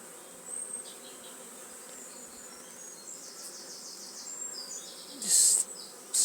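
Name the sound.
swarm of honey bees in a WBC hive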